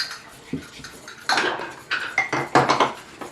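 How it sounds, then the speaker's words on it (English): Vinegar and baking soda stirred in a bowl, with a spoon clinking and scraping against the dish in quick, irregular knocks, close and fairly loud. "Stir it, stir it, stir it."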